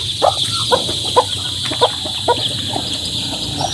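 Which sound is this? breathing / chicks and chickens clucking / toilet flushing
chicks and chickens clucking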